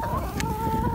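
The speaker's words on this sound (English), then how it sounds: "let me turn it around here and I'll show you our chickens" Backyard chickens in a small neighborhood flock cluck softly over a steady background hum, with a brief higher squawk partway through.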